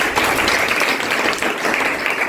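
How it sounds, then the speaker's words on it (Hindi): Students in a school classroom in Rajgir, Bihar clap together in a steady burst of applause that stays dense and even throughout, with no speech on top. "एक बार और ताली बजाओ"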